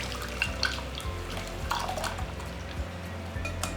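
Blended mint juice strained through a sieve gives a soft, steady trickle and drip of liquid, with faint splashes and a low rumble underneath.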